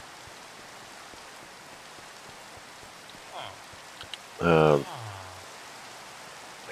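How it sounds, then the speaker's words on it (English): Steady rain hisses through a video game world, a soft even wash throughout, with a brief louder thunder-like burst midway and a voice speaking once over it. "I wish the rain would stop."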